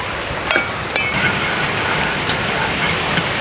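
Steady rain pours down outdoors in rural Vietnam, a dense even hiss of drops on surfaces with a couple of sharp clicks near the start, loud and close.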